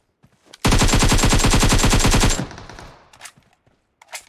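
Automatic gunfire in PUBG Mobile rattles out in one loud, close, rapid burst lasting nearly two seconds, followed by a fading echo and a few faint distant shots.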